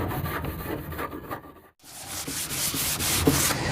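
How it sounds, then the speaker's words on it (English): A painted table top being sanded by hand with 180-grit paper, steady close rasping strokes rubbing back and forth with one brief pause midway, no voices. "so I'm just going to sand it real good"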